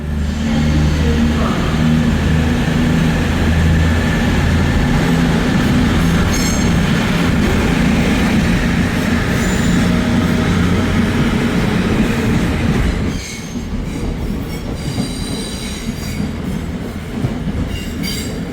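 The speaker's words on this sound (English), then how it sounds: "here comes in the LNER Azuma service to Edinburgh Waverley only" LNER Azuma passenger train pulling into Newcastle station, a steady loud rumble of wheels and traction hum close by with faint squeal and clatter, easing after about 13 seconds as it slows.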